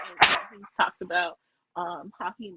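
Dog barking during a podcast live stream, a few sharp barks and yips close to the microphone, alternating with a person talking.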